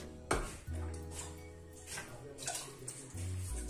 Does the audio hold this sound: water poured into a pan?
yes